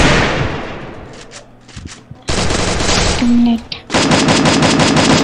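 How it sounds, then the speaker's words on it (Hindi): M4 rifle gunfire in Garena Free Fire: loud, rapid automatic bursts in several strings with short gaps, plus a fading blast at the start and a brief tone between bursts. "M4 से मारो टका टक"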